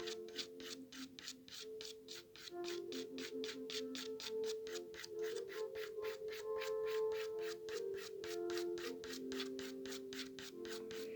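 Charcoal scraping across paper in hatch lines, a steady, rhythmic rubbing stroke repeated quickly and evenly for several seconds, close and alone.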